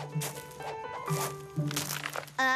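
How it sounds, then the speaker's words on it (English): Crisp crunching and crinkling of dry leaves underfoot in several uneven bursts, close by, with soft music playing beneath. "But these leaves are so crunchy and loud."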